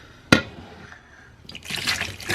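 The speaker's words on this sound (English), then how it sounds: "We'll put some water in there now." Water poured into a container, opening with a sharp knock, then a soft trickle that swells into a louder, hissing splash toward the end, close by with no talk.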